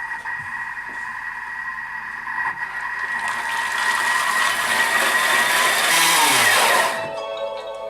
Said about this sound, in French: Puis nous allons mixer le tout. 20 secondes, vitesse 10.